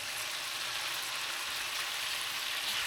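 Chicken pieces sauté in a pan while cooking tinola, releasing their fat, giving a steady, close hiss of frying and sizzling with no talk.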